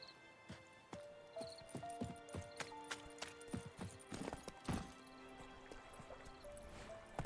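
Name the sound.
horse hooves approaching, Roach in video game The Witcher 3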